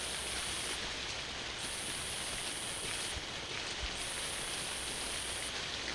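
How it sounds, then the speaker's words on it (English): Steady rain in a jungle in the video game Jurassic Park Hunter Legends patters softly and evenly, a constant wash of falling drops with a faint high hiss pulsing in and out. "we'll get out of the rain"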